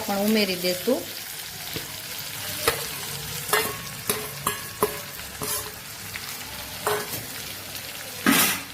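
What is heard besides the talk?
okra added to frying potatoes in a pan, stirring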